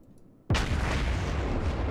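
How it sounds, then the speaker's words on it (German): A battleship's turret guns fire in World of Warships, a single sudden heavy boom that rolls on as a loud, sustained rumble after a quiet moment. "Drehen wir meine anderen Türme so, dass ich zumindest nochmal zum Schuss komme."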